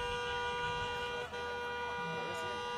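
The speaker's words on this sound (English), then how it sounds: "when you're in support of things, you honk your horn" A car horn sounds in a sustained blare amid outdoor traffic noise at a protest rally in Tujunga, California, with people talking nearby.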